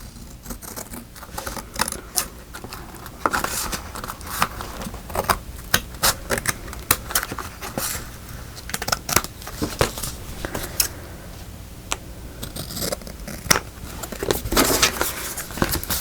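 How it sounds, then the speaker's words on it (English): Scissors cut through paper for a journal craft project, making rapid close crisp snips and rustles that come in irregular bursts throughout, with no talking. "Now I'm going to cut here."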